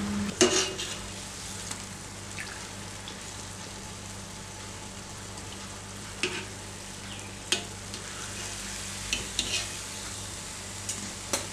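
Sweet vada frying in oil on a slow flame, a steady soft sizzle running throughout with a few brief clinks and stirring taps, moderately quiet and close, no talking.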